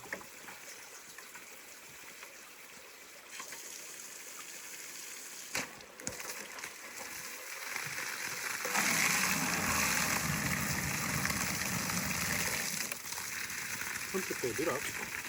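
Pumped water pouring back into a creek at an off-grid property, a steady broadband rush that swells louder partway through and holds, with faint voices underneath.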